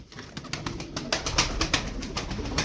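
Game pigeons coo close by, a continuous run of soft, throaty calls with rhythmic pulses that grow slightly louder partway through, with no voices.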